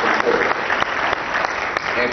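A round of applause from the audience at a football showcase press conference, dense clapping that stays loud and steady through the whole stretch with a few sharper claps poking out.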